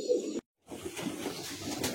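Male Madrasi high-flying pigeons in a sale loft at Bagnan, Howrah, coo in low, steady murmurs, broken by a brief silent gap before the cooing resumes.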